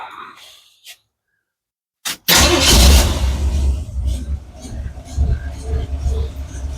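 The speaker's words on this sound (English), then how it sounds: "So let's start the truck up" A small-block Chevy truck engine cranks and catches after a short quiet gap, then settles into a loud, rumbling idle with some revving, recorded up close.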